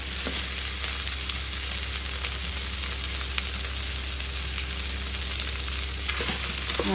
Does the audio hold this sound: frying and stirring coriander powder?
yes